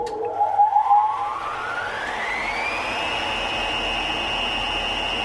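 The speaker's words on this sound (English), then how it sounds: "wire in a sound effect of an industrial machine starting up when the mix button was pressed" Industrial machine starting up as a sound effect: a low hum under a rising whine that sweeps steadily upward over a few seconds, then holds as a loud, sustained high-pitched drone with broadband noise.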